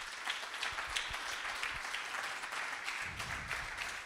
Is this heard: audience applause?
yes